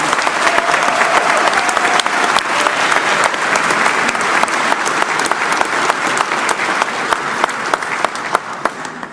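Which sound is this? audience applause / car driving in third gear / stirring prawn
audience applause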